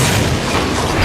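Deep, sustained booming explosion rumble from World War II era tanks and artillery, loud and dense throughout with no distinct separate blasts.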